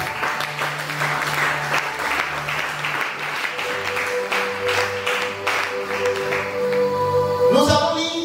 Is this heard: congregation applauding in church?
yes